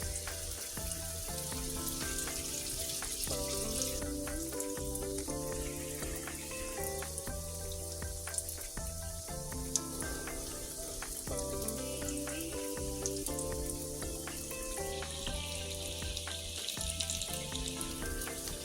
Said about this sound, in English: And I'm dropping the fritters.